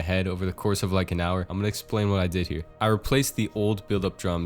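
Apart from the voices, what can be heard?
No distinct noise like a dog, phone or traffic.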